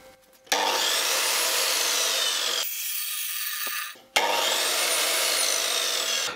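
A Revolt CS2800 circular saw runs at a high steady whine, spins down briefly partway through, then starts up again and keeps running loudly, close to the microphone, with no talk.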